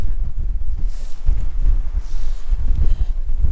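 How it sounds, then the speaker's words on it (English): Steady low wind rumble buffeting the microphone on cold mountain ground at Cadair Idris, Wales, with gusty surges and a faint hiss, no voices. "Could be the wind, a bit windy."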